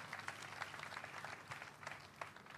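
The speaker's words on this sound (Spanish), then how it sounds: "Aplaudamos de nuevo a Jesús." Congregation applauding during a church testimony program, a soft, steady patter of many hands clapping that stays faint and distant throughout.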